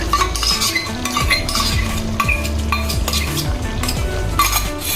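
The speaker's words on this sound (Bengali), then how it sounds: "এবারে আমি এতে লো ফ্লেম করে ফেটে রাখা টক দইটা দিয়ে দিচ্ছি।" Whisked yogurt stirred into a spice masala in a pan over low flame: steady clinks and scrapes of a metal spoon against the pan over a soft sizzle, loud and close.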